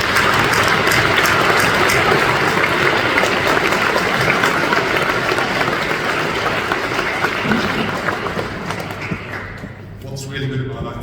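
Dense, sustained applause from a large audience at a graduation ceremony fills the room, loud and continuous, tapering off as a voice begins speaking at the end.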